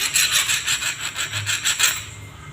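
A grinder abrades a rough, uncut diamond, giving a steady scraping rasp that pulses in rhythmic strokes, close and fairly loud, with no talking.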